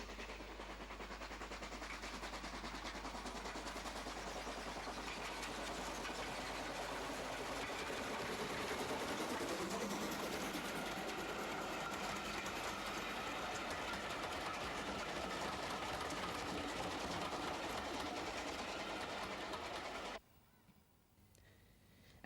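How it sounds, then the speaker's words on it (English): LMS Black 5 steam locomotive No. 44767 George Stephenson coasts a steam special into Appleby station on the Settle and Carlisle line: a sustained, fairly loud rolling rumble and rattle of wheels and coaches that cuts off abruptly near the end. "LMS Black 5, number 44767 George Stephenson, coasts into the station with a steam special en route to Leeds"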